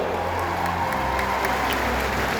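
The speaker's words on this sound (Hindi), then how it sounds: "तालियों की गड़गड़ाहट से उनका स्वागत हो।" A crowd at a political rally in Gwalior applauds to welcome Amit Shah, a dense, loud, continuous roll of clapping that holds steady from start to finish.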